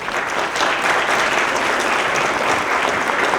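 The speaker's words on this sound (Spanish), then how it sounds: "otro fuerte aplauso para todos" An audience at a panel session on an open, sustainable and resilient Mexico City breaks into loud, sustained applause, dense clapping filling the whole stretch without pause.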